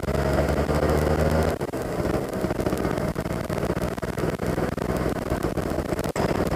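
A Suzuki Satria 120 R two-stroke motorcycle engine drones loud and close while riding at low RPM, a steady buzzing tone that drops briefly as the throttle changes, with no talking.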